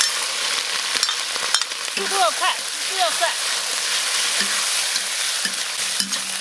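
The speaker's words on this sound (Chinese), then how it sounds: "把这个猪肝下锅滑下油" Pork liver slid into hot rapeseed oil in a wok for a Sichuan pork liver and kidney stir-fry gives a steady, close sizzle throughout, with someone talking over it.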